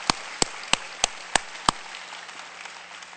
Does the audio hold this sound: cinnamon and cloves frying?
no